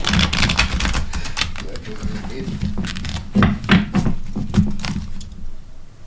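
A deck of cards being shuffled, quick papery riffles and soft taps in short bursts, close by and mixed with people talking.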